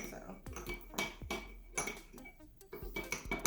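Jojoba oil and apple cider vinegar being mixed together for a scalp scrub, with several clinking, knocking strikes of utensil against a dish, close by and irregular, alongside soft handling noise.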